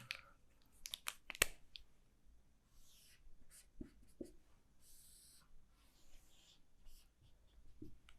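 A pen draws a deflection diagram for a portal frame on paper, producing quiet, intermittent scratchy strokes and short scribbles, close and soft, with no talking.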